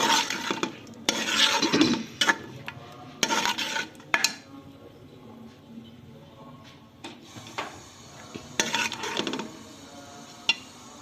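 Aloo gosht meat curry with ground onion and yogurt stir-fried in a pressure cooker pot, a spoon scraping and clattering against the metal in repeated bursts with short pauses between them.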